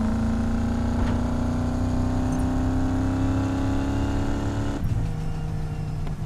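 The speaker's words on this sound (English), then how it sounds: "This is the Camaro 1967 Camaro 350, and it sounds amazing." A 1967 Camaro with a 350 engine in the racing game Need for Speed Payback revs hard and steadily climbs in pitch for about five seconds, then drops off abruptly as it shifts, loud and close with no talk.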